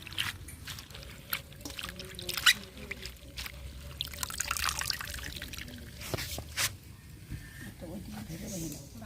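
Helencha river greens are rinsed by hand in a pot of water, giving soft splashes, drips and trickles in irregular bursts close by, with occasional brief voices in the background.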